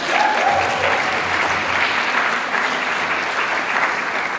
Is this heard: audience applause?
yes